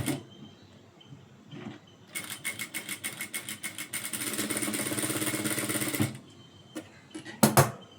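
A sewing machine stitches a blouse in fast, even bursts of mechanical clatter, starting and stopping several times with a long steady run in the middle, close and alone.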